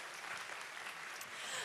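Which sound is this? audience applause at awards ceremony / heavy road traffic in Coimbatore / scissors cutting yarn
audience applause at awards ceremony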